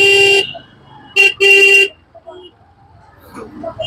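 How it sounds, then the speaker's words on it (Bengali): Car horns honk in a roadside traffic jam in Hooghly, caused by a broken-down vehicle: one long blast, then a short toot and another sustained honk, loud and close, followed by quieter traffic noise and faint voices. "সামনে কি হয়েছে দেখি, তো গাড়ির জাম লেগে গেল।"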